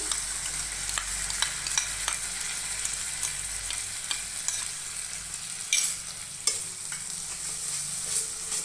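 A ground paste of white mustard seed and dried red chili fries with turmeric in a pan, giving a steady close sizzle broken by light spatula scrapes and a couple of sharper clatters.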